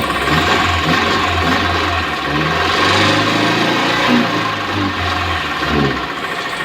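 A neglected, poorly maintained car engine runs loud and steady just after starting, a rough low idle with slight uneven surges and a faint knock underneath, no voices over it.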